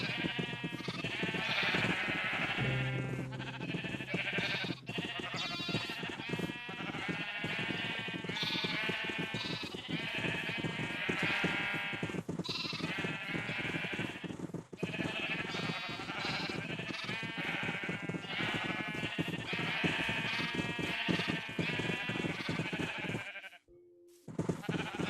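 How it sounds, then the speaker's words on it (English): Sheep in Minecraft Legacy Console Edition bleat repeatedly over about twenty-five seconds, the calls loud and frequent against a continuous game backdrop, ending with a brief drop near the close. "There's only 2 sheep up here."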